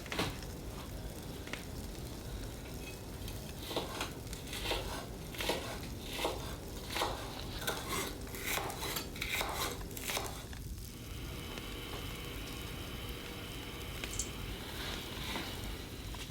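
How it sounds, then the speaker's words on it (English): A knife slices an onion into half rings on a board, giving a series of soft, regular cuts and crunches at close range that end abruptly, quiet with no talk. "I first slice the onion into half rings"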